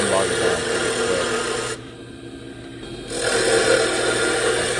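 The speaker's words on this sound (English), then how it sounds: "This is a small wood lathe." A small 1/3-horsepower wood lathe turns a piece of Dark Knight Spectraply into a bottle stopper, giving a steady loud rasping, scraping drone that cuts out briefly in the middle and then resumes.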